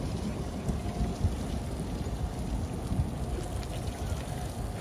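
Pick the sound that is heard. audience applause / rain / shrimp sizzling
rain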